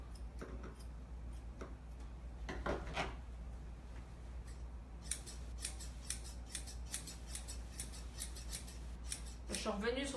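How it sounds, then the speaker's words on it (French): Sharp grooming scissors snip through a poodle's fur, a steady run of quick light clicks and short bursts over a constant low hum, with brief faint talk in the background. "On prend des ciseaux qui coupent beaucoup."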